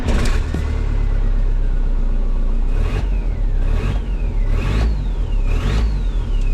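A VW T4 van fitted with a TDI diesel engine from Golf III parts starts up and runs loud and close, with repeated revs rising and falling in a steady rhythm.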